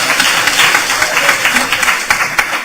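Audience applause at an academic talk on intersectionality, a dense steady patter of many hands clapping at moderate loudness with a few sharper claps, sustained throughout.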